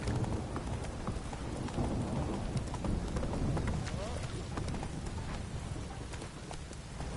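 Roach, Geralt's horse in The Witcher 3, gallops in steady clip-clop hoofbeats under a rumble of rain and thunder, while someone speaks over the hooves.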